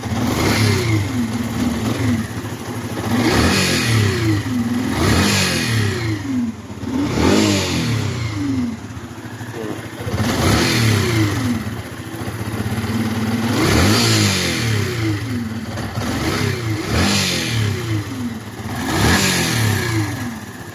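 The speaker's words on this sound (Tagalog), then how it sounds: "Narinig yung tunog big bike." A big motorcycle engine with a faulty stator coil revs repeatedly, its pitch rising and falling in regular surges over a steady rumbling idle.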